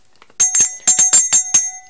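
A small red metal holiday bell rings loud and close, about six quick, bright strikes in an uneven rhythm, with nothing else heard.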